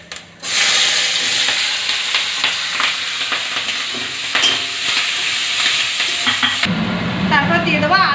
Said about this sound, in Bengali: তারপর দিয়ে দেবো পেঁয়াজ কুচি আর চেরা কাঁচা লঙ্কা